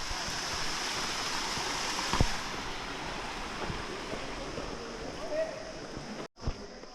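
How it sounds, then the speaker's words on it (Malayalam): Small waterfalls in Wadi Shab, Oman, pour in a steady broadband rush that fills the whole stretch, with faint voices and a few low knocks in the background. "ഇവിടെയൊക്കെ ചെറിയ ചെറിയ വെള്ളച്ചാട്ടങ്ങളുണ്ടോ?"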